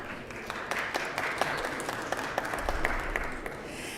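Legislators in a chamber applaud a platinum wedding anniversary with a steady patter of many hands clapping, moderately distant and even throughout, with no speech over it.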